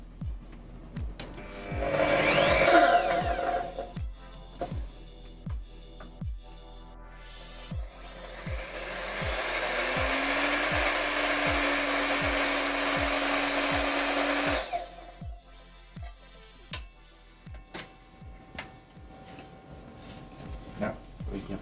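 An Evolution R255 SMS radial miter saw spins up with a brief motor surge, then makes a straight cut as a loud, sustained buzzing whine for several seconds before winding down. A steady ticking continues throughout.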